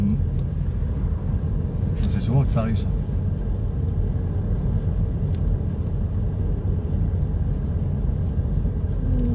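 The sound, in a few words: passing car on a road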